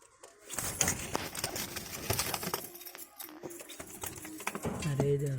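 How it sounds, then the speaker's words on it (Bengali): A pair of pigeons in their coop, with soft low cooing tones rising near the end over a busy background of rustling, clicking and shuffling movement. "আর এই দেখো হুমা কবুতর দুইটি খোপের ভিতর"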